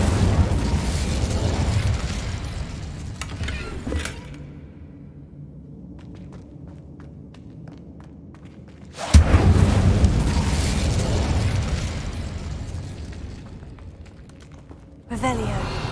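A spell cast in Hogwarts Legacy: a loud burst of fiery, booming roar that dies to a low rumble, then a second strong whooshing blast several seconds later and a third cut off at the end, close and full.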